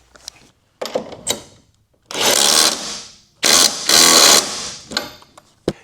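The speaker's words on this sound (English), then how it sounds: "Tightening the bolts down can go super fast with an impact driver" An impact driver with a 3/4-inch or 19mm socket tightens bolts on a dock bracket, giving two loud rattling hammering bursts of about a second each, with short clicks and handling noises before and between them.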